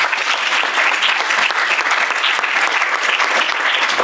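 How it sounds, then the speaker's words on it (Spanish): Steady, dense applause from a seated audience fills the room for a professor at the close of a political studies program presentation, unbroken and loud throughout. "Le podemos dar un aplauso al profesor"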